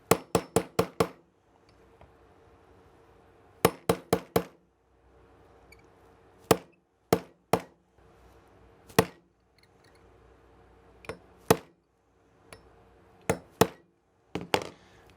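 A 1/8 inch punch is hammered to drive a pin out of a CZ P07 pistol slide, sharp close metallic taps in quick bursts of three to five strikes with short quiet gaps between, then scattered single hits.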